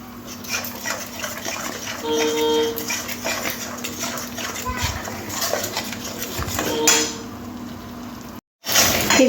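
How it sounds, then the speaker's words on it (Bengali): Mustard-poppy paste is stirred into a Parshe fish curry in a pan: a steady wet scraping and sizzling hiss with occasional soft clinks of the spoon, under a voice talking. "সর্ষে পোস্তটাও ভালো করে এইভাবে মিশিয়ে নিতে হবে"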